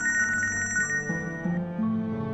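A telephone rings during a call, a bright electronic ringing tone with repeating warbles, followed by sustained lower tones, loud and close with no voices over it.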